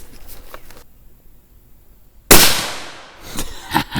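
A single sharp suppressed 6.5 Creedmoor rifle shot firing a 140gr Hornady BTHP handload, loud and close, breaking a quiet stretch and trailing off with a short decay.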